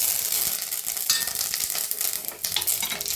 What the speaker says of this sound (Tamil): கடுகு நல்லா பொரிஞ்சு வருது.